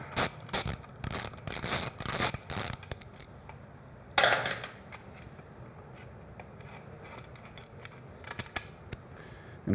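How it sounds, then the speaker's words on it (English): A 12mm socket ratchet loosening a bolt on a Triumph Bonneville T100, bursts of rapid close clicking followed by a sharper knock and then sparser, quieter ratchet ticks. "now with our 12mm socket, take this bolt out"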